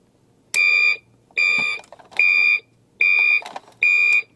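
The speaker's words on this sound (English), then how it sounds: "That's obviously a backup sound" Electronic backup beeping from a 1990 Hess toy tanker truck, five evenly spaced loud, piercing beeps, close and alone with no talking.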